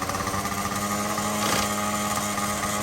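A Yamaha BW80 engine idles steadily, slightly too high, with a buzzing, high-pitched drone and a brief rev swell partway through.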